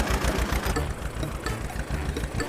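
A toy mini tractor engine runs in a steady, loud, rough putter with a fast, even knocking rhythm and nothing else over it, during a children's race up a hill.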